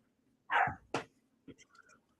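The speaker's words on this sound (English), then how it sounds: "Dogs are barking for no damn reason." Dogs bark indoors in two short, sharp barks close together, followed by quieter yips and rustling, fairly faint overall.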